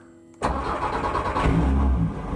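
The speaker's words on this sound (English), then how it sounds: "Let's fire this thing up and let's go." A VW Mk8 Golf TCR race car engine fires up abruptly after a brief quiet moment, catching at once into a loud, rough, close idle that swells slightly and holds steady.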